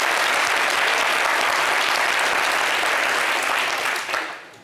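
Studio audience on a French TV talk show applauding, a steady dense wash of clapping that holds for about four seconds before fading out, with no talk over it.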